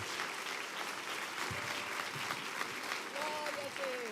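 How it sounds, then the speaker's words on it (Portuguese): Church congregation applauding during a service, steady continuous clapping from the crowd heard at moderate distance, with faint voices underneath. "Vamos aplaudir ao Senhor."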